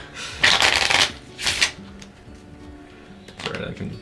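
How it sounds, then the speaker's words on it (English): Playing cards are shuffled quickly at a tabletop role-playing game session, giving several crisp riffling bursts with short pauses between them, close by and loud. "Alright, I can shuffle quickly."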